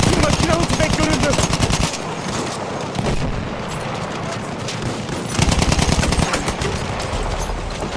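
Machine gun fire in the Battlefield 1 video game, loud sustained bursts of rapid automatic shots with heavy low rumble, broken by short pauses amid battlefield noise.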